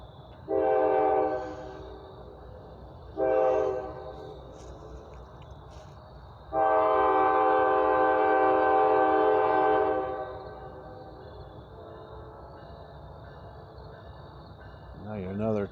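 At night, a train horn sounds three times: two short blasts, then one long sustained blast lasting several seconds, loud and fairly near, over a low steady rumble of the passing train.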